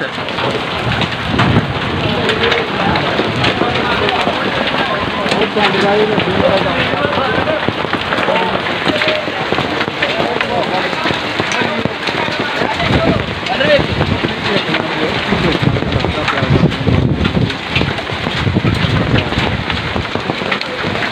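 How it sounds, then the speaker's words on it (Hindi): Hailstorm with hailstones falling alongside heavy rain, a loud, dense continuous clatter and hiss on surfaces outdoors, with occasional rumbles and a voice talking over it. "ये देखें गोलियों की बरसात और बर्फ़ की गोलियाँ, ठंडियाँ गोलियाँ"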